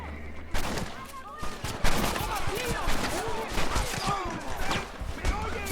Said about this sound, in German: Hört auf mich zu schießen.